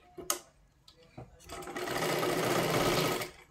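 A sewing machine stitches a size 32 katori blouse, starting with a few soft clicks and then running in one steady, close whirring burst of roughly two seconds.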